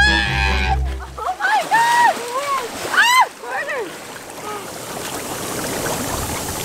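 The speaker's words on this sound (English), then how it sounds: "You have to go all the way in, head underwater." A person plunges headfirst into cold outdoor pool water, making a loud splash at the start, followed by excited yelps and shrieks from nearby voices.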